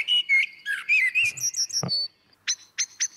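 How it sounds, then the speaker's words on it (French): Common blackbird singing a sequence of clear fluting whistled phrases followed by sharp chirps, close and distinct against silence. "c'est un Blackbird, un merle noir"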